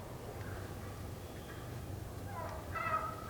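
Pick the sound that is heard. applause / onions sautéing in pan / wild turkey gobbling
wild turkey gobbling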